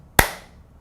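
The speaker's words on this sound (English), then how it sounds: "clap, just to sync the sound later" A single sharp hand clap rings out close and loud in a quiet room, followed by a short decaying tail.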